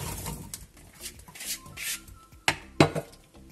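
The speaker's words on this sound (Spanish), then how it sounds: "Ahora ponemos en la olla ya las patatas y la zanahoria que tengo bien troceada" Chopped potatoes and carrot dropped into a cooking pot, quiet clinks and shuffling followed by two sharp clattering impacts close by.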